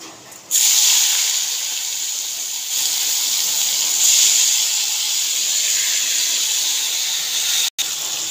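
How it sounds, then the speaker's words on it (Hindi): Washed shrimp hit hot mustard oil in a heated kadai and burst into a loud, steady sizzle that holds for several seconds, swelling briefly partway through before cutting out near the end. "तेल गरम हो गया है अब हम इसमें ऐड करेंगे धो के रखा हुआ श्रीम"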